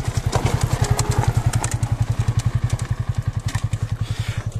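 Motorcycle engine running steadily up close on a hilly road near Tikok Colliery in Assam, giving a loud, even, rapid low thumping rhythm throughout with no talking.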